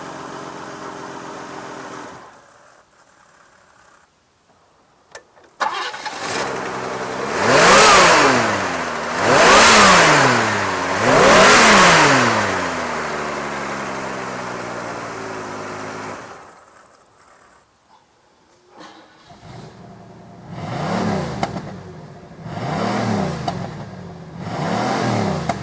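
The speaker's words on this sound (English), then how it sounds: "Engine sounds real good." A 1987 Cadillac DeVille four-door sedan's engine revs up and down in repeated close, loud surges, separated by brief quieter idle stretches, with no talking.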